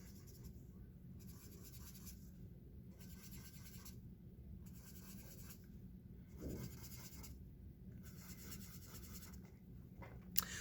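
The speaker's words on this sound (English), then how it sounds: "I'm going to draw in all my little nucleuses." A pen scratches steadily across a surface, drawing many small dots and circles in short repeated strokes with brief pauses between bursts, close and fairly quiet, with no talking.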